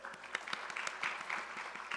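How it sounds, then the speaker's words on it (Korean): Congregation claps in a church service to bless those just proclaimed in a ceremony, a steady, fairly faint patter of many hands sustained throughout. "우리 큰 박수로 축복해 주시죠."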